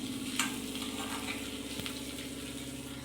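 Green chillies frying in hot tempering oil for a bitter gourd, tomato and brinjal curry crackle steadily, with a couple of sharp pops over a continuous close sizzle.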